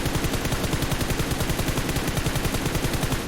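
Rapid automatic gunfire in the mobile shooter PUBG Mobile, with the weapon fired while lying prone. A continuous, evenly spaced stream of loud shots runs without a break for the whole stretch, and no voices are heard.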